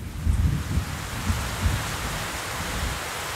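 Steady rain patters down throughout in a French cartoon, a soft continuous hiss with low rumbling thuds, no voices.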